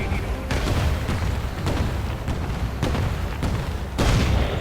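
Heavy booms and rumbling blasts from the mobile war strategy game War Alert WWII, several in a row with continuous gunfire and battle noise between them, loud and dense.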